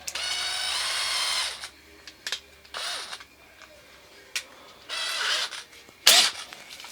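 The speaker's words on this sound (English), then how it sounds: "Take your little drill." A small hand drill spins a scratch-built aircraft part for a Midget Mustang in short bursts, several separate whirs of a second or so with quiet gaps between, close and with no talk.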